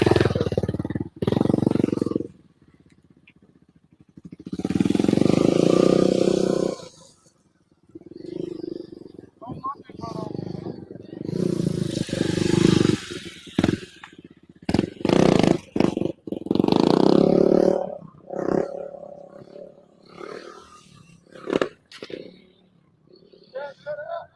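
A motorcycle engine revs in repeated bursts and then drops to idle or cuts out during a slow wheelie stunt, with a person talking between and over the revs.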